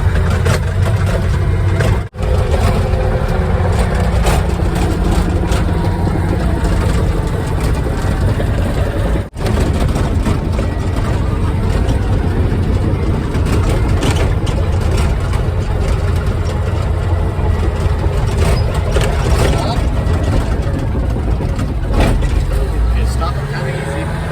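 A bulldozer engine idles and runs beside a trailer house frame as a loud, continuous low diesel rumble. It stays heavy and steady, with two brief dropouts and a slight rise near the end.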